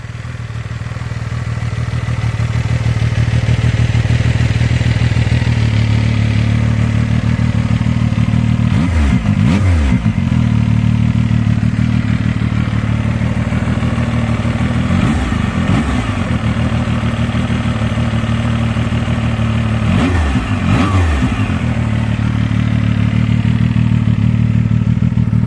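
A Zontes 703F motorcycle is ridden with a loud, steady engine drone, and three distinct revving surges mark quick upshifts, heard close and without talk.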